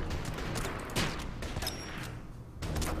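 Artillery shots firing in the Order of Battle strategy game, a few thudding blasts with crackling impacts in quick succession, moderately loud with no talk over them.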